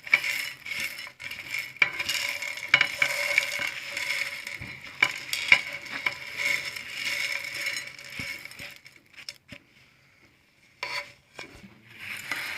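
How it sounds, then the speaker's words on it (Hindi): Chana dal frying in a pan while being stirred for a mixed nimko snack, with a steady sizzle and repeated scraping, clinking spoon strokes, fairly soft, trailing into a near-silent pause before the stirring resumes. "अब चने की दाल भी डाल दी है।"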